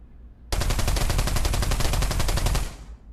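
A UMP submachine gun in the VR shooter Pavlov fires one continuous rapid burst of about two seconds, loud and close, with tightly spaced shots and a short tail fading out afterward.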